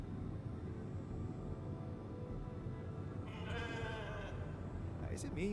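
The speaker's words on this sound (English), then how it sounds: "Sounds like a sheep." A sheep bleats in the video game The Alters, several wavering, nasal calls rising over a constant low ambient rumble, the bleats clear and fairly close near the end.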